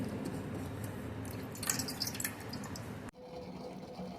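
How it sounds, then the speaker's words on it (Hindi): A home-remedy ingredient is washed in water by hand, with soft dripping, sloshing and splashing that builds briefly before a sudden cut to quieter background, close and faint with no talking. "अभी मैं इसको अच्छे से वॉश करूँगी 2-3 बार"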